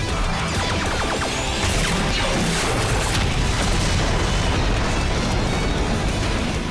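The Beetle Cannon fires in Power Rangers Samurai, a loud, sustained barrage of booming blasts and crashing bursts that fills the scene without pause.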